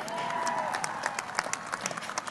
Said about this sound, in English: please clap for Tom Brady.